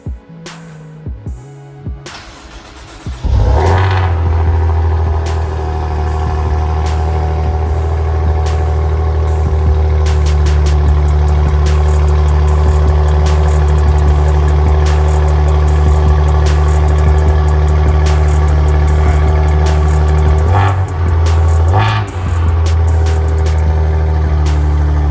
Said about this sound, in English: we're gonna get a little start up on this Maserati Ghibli